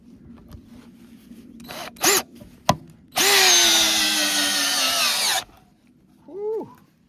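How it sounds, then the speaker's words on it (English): Bauer cordless drill with a socket adapter driving a big lag bolt: two short motor bursts, then one loud sustained whine of about two seconds that strains under load before stopping, followed by a brief final burst, close up. "I'm gonna go ahead and drive this big lag bolt in"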